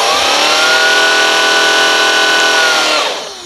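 A cordless vacuum brush roll spins at high speed on a Shark Rocket Pet Pro or Dyson V7 Motorhead, a loud, steady, close whine with bright tonal harmonics that holds evenly and then winds down in the final half second.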